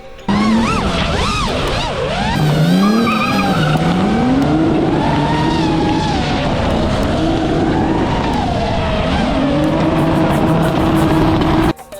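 A car drifting at a drift show in Dynów, Podkarpacie, with a loud continuous engine roar and long sweeping tire squeals through the slides, close and sustained throughout.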